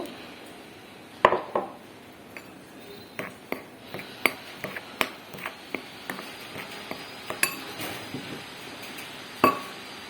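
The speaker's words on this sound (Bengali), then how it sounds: "এবার আমি জল দিয়ে বেসনটা গুলতে থাকবো।" Gram flour batter is mixed with water in a bowl for dhokla: irregular, sharp clinks and taps of the utensil against the bowl over a quiet background, with no speech.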